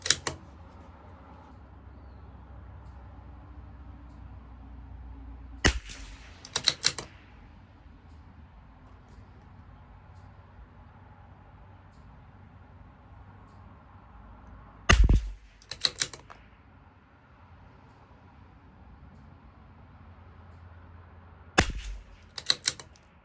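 CZ457 LRP rimfire rifle fired at 50 yards with Lapua Center X ammunition: sharp, isolated cracks, several of them followed closely by a second snap, spaced well apart against a quiet outdoor background.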